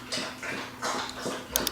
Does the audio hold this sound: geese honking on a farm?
no